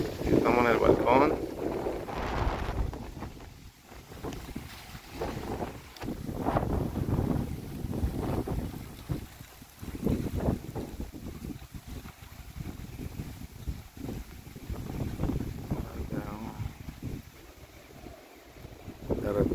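A gust of wind sweeps across a balcony beside the Pacific, roaring and buffeting the microphone in loud surges, with voices talking through it.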